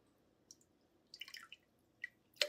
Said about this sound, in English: This is not the best cup to do orange juice pouring in.